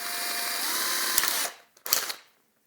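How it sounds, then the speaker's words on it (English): A power drill bores out a rusted screw on an AKAI EWI 4000s wind controller, a close whining buzz that holds steady, shifts pitch slightly, stops, then spins up again briefly before going quiet. "I think there's no other way than to use a real drill bit and to drill"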